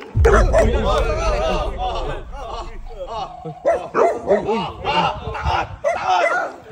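A dog yips and barks in short bursts at close range, mixed in with lively overlapping talk from people nearby.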